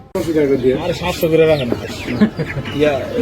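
Roosters and chickens cluck at a busy village market, their calls close and fairly loud, mixed with people talking nearby throughout.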